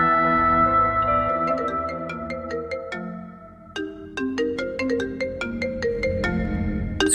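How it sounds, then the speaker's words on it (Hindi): A mobile phone rings for an incoming call, a melodic electronic ringtone playing a sequence of bright stepped notes, loud and close, with no talking over it. "ज़ुबिया का फोन।"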